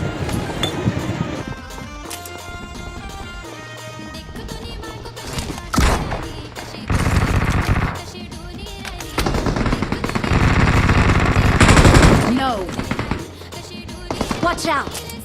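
Bursts of automatic gunfire in the BGMI mobile battle royale game, rapid rattling volleys repeating across the clip over a busy game soundtrack, loud and close.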